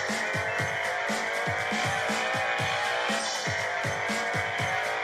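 A Toyota GT-86 in a street racing video game accelerates hard with a steady, loud engine drone while its tires squeal in repeated rhythmic bursts, with no talking.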